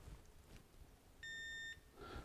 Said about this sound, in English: Okay, it beeped.